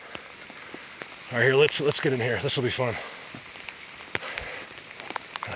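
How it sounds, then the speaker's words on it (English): Heavy rain and hail falling on a mountain top, a dense patter with sharp scattered impacts throughout, while someone talks close by partway through. "it's pouring, it's hailing"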